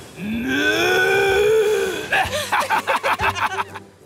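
A long, drawn-out moo rises and holds for about two seconds, followed by a burst of choppy, rhythmic chuckling sounds.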